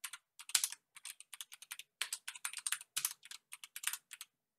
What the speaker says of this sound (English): We go on add, map, type in the title of the map